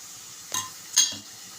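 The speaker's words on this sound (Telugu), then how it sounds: "ఇప్పుడు ఇందులోకి కొంచెం నూరి పెట్టుకున్న వెల్లుల్లి వేసుకుందాము." Crushed garlic dropped into hot oil for a spicy Rayalaseema-style egg and garlic dish, two short bursts of sizzling with a light clink of a utensil against the pan.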